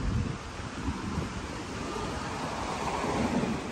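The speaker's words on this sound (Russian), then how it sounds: "И ветерочек." A warm outdoor breeze blows across the microphone as a steady, fairly loud rushing wind noise with slight gusting and no talk.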